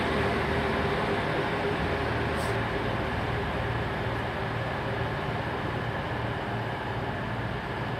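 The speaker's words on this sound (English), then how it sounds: "That's on an East Midlands train service to Crewe." An East Midlands Class 153 diesel train runs at Derby, a steady low engine drone with a rumbling rhythmic undertone that holds evenly throughout, close and continuous.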